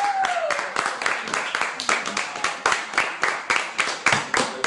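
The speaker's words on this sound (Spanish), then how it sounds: "Aplauso para los chicos, por favor." An audience applauds for young performers after a stage show, a dense, steady patter of many hands clapping close by, with a brief voice at the start.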